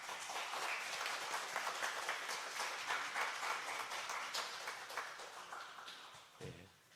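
A church congregation claps warmly during an anniversary ordination and retirement service after a commemorative plaque presentation, steady dense applause filling the room and tapering off near the end.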